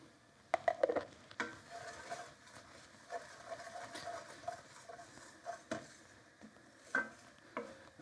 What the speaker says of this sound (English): Using the same pan, we're now going to fry the seed and the coconut